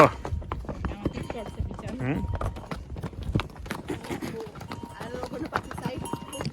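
Horse hooves clip-clop in an uneven trot on a trail at Kufri near Shimla, with people chattering close by throughout.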